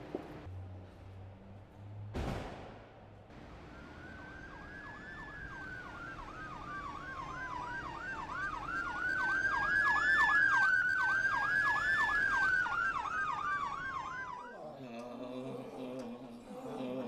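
An ambulance siren wails steadily in a rapid rising-and-falling yelp over low traffic rumble, growing louder toward the middle, then cutting off abruptly near the end.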